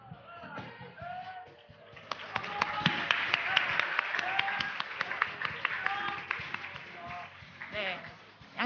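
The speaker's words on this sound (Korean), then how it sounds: "큰 박수 부탁드립니다" Audience applause at a quantum information competition award ceremony starts sparse, then thickens into brisk, steady clapping with distinct sharp hand claps, fairly close, while voices talk over it.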